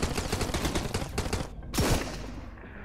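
Pistol shots in Sunkenland, a rapid run of sharp, loud reports in steady rhythm, then a pause and one heavier blast that fades into a ringing tail, with no talk.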